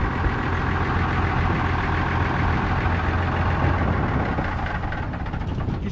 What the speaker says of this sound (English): I can't hear you. I'll wait till you shut it off.